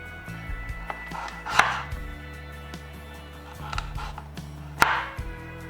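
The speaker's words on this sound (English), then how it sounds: "we're just cutting these potatoes up now" Potatoes being cut into slices for a dauphinoise gratin, heard as a few crisp, close knife chops against a board spaced a few seconds apart, over quiet low kitchen hum with no talking.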